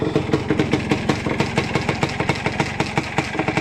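A Yamaha Blaster ATV engine runs close by at a steady idle, its rapid regular putter pulsing evenly throughout with no voices.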